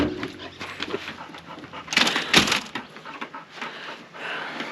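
A dog pants at a campsite in Queensland, steady breathy huffs close by, with some rustling and a louder scuffling burst midway.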